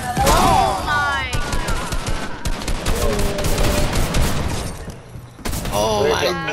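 Rapid bursts of gunfire from a hunting rifle in a video game crack loudly over several seconds, mixed with excited voices talking and shouting over the shots.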